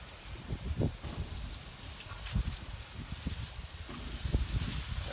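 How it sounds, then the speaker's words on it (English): Ribeye steaks sizzling on a flat-top steel griddle, a steady broadband hiss of searing fat with small pops and crackles throughout, close and fairly quiet, no talking. "You can hear that sizzle."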